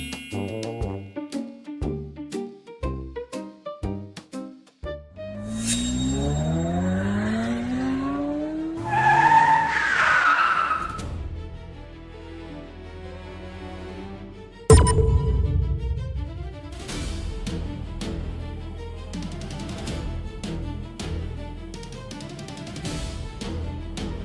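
A car brakes hard and skids, nearly hitting a person on the street, with a sudden screech of tires rising out of background music and then fading as the music continues.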